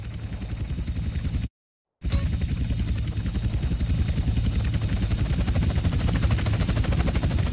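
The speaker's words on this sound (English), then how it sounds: "Two agency choppers coming in on an intercept." Helicopters in GTA San Andreas Definitive Edition close in, a steady rotor drone with a rapid pulsing chop that stays loud and continuous, broken by one brief silent gap.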